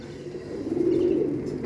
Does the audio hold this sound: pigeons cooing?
yes